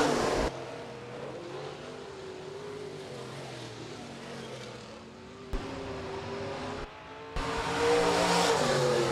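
Stock cars in a heat race at Rapid Speedway: several engines drone and roar steadily around the dirt oval, their pitch rising and falling on the turns, with a louder surge near the end and no voices.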